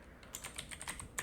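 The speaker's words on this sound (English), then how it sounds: "So in my case I'm just typing here" Quiet, close keystrokes on a computer keyboard tap out a quick, uneven run of clicks, with one sharper key press near the end and no voices.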